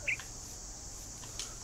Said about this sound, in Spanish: Yo creo que acabo de escuchar un loro.